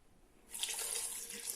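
Water runs from a tap into breakfast, starting abruptly after a quiet moment and then flowing steadily with a bright hiss and splash, close and alone.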